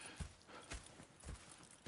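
Horse hooves clop at an even walking pace in Red Dead Redemption 2, about four soft, muffled beats over a quiet background with no talking.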